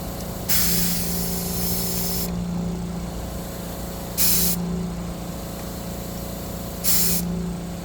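Three bursts of loud compressed air hiss into the rear tire of a Yamaha YZF-R1M at night, each lasting about a second or less, separated by pauses with a steady low hum underneath.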